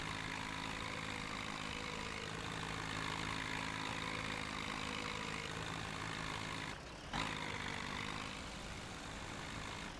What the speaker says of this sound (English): Keep going, little tractor.